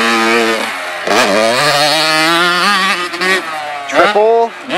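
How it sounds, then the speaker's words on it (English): A Husqvarna 85 dirt bike revs loudly and steadily through a lap of a motocross track, its engine pitch climbing and dropping with each throttle change, close and dominant throughout. "Trent's gonna do a full lap on the track so you guys can see what it is."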